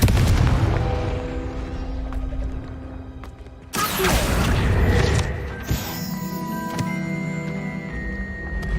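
Bombarda and Confringo spells exploding in Hogwarts Legacy, a loud booming blast followed by a second burst of rumbling explosions with crackling, ringing magical tones, heavy and close with no talking.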